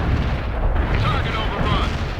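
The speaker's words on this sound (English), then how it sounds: "Delivering a rain of shells." Artillery shells bursting in World in Conflict: a loud, rolling wall of overlapping explosions and low rumble, with a voice heard partway through.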